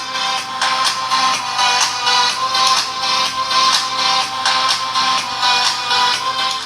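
Loud, bright music with a driving beat blares from a Ulefone Armor 15 smartphone speaker, thin and harsh in tone, filling the space without talk.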